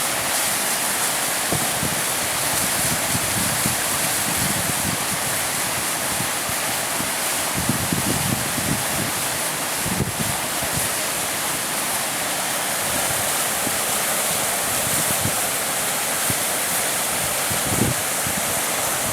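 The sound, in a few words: creek water flowing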